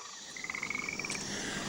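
A frog croaks in a rapid pulsing trill lasting about a second, moderately loud against a soft background, with no talk.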